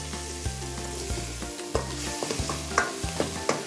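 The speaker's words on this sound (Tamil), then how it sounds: "கொஞ்சம் போல் கருவேப்பிலை சேர்க்குறோம்" Curry leaves drop into hot masala for a prawn mango masala, crackling and sizzling under a steady loud backing music, with sharp pops and spatters scattered through.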